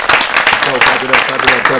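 A podcast studio audience claps and cheers as two guests are welcomed, with dense, steady applause filling the short moment at close range and voices mixed into it.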